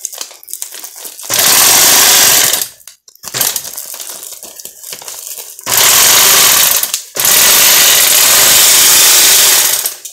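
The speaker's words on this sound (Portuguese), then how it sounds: "Essa maquininha que a gente costura a lona, ela é da fazenda." A small sewing machine stitches through a tarp in three long, loud, steady mechanical runs, close-up. Short pauses between them carry handling clicks and rustling.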